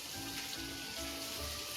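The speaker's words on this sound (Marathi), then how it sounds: "शॅलो फ्राय करतोय आपण याला बटर मध्ये." Chicken pieces shallow-fry in butter in a pan, giving a brief, soft, even sizzling hiss heard up close with no talking.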